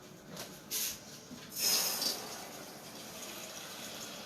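Water runs from a tap into a kettle filled about halfway, coming in short bursts of gushing flow that then settle to a quieter, steady trickle, fairly close and with no talk.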